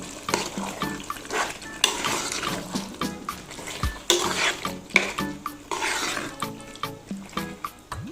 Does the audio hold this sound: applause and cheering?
no